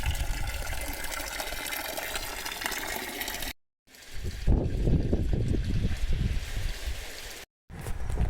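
Spring water flowing in Cathar country, southern France, a steady broadband rush that breaks off twice, then returns as closer, heavier gushing and splashing with no voices.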